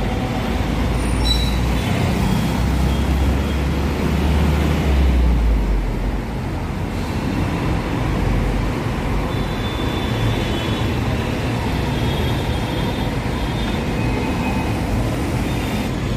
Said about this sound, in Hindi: ये रहा तो मथुरा एक्सप्रेस वे हाईवे